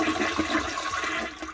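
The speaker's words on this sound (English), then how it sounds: "Now I gotta flush my poop." Toilet flushing in a cartoon bathroom scene, a steady rushing swirl of water that runs continuously for over a second at moderate level, with no voices over it.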